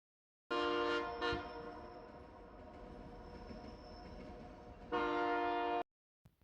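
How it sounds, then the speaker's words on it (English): The White Pass train rolls past in Skagway, Alaska while its horn blares, a long loud blast at the start and another near the end, with rumbling wheels in between. "the White Pass train went by"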